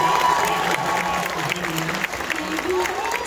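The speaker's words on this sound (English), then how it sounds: "let's give her a big round of applause for being here" A crowd at Dollywood applauds Dolly with sustained clapping and some cheering, with a voice speaking over the applause.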